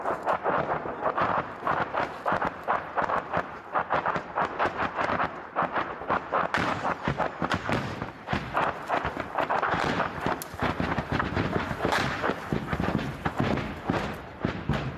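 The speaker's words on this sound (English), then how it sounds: "This neighborhood has been pounded by the Russians, the front line just a few kilometers away. And as the crew treat their patient, another attack begins." A Russian artillery attack hits a neighborhood near the Ukrainian front line, with white phosphorus burning overhead: dense, continuous rumbling blasts and crackling bursts, loud and sustained throughout.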